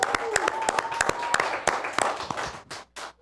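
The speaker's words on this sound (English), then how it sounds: "that was only just me and Owen cheering themselves right then" Two hosts of a late-night talk show clapping and cheering for themselves, a brief burst of close, sharp handclaps with whoops and voices, fading out at the end.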